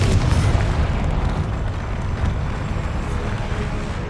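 A Confringo fire spell explodes in the Hogwarts Legacy video game, a loud deep boom that rolls into a sustained rumbling roar and slowly fades, with no speech over it.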